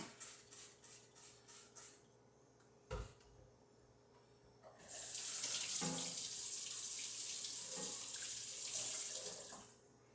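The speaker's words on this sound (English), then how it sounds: "Take my hydrometer, I'm going to rinse it out with Star San." A kitchen tap runs steadily for the second half as a hydrometer is rinsed with Star San while making strawberry wine, after a quieter start with a few light clicks and knocks.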